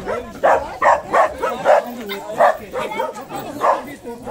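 Several dogs bark and yip in a rapid, uneven series, close and loud, with people talking in the background, at a dog and cat vaccination event in Lagoa da Serra, Estrela de Alagoas, Brazil.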